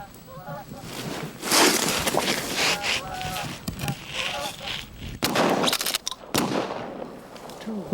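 A gunshot fired at a goose during a hunt in Labrador: sharp, loud blasts cut through a backdrop of geese calling and noisy wind.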